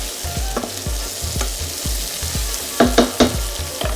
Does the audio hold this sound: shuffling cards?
no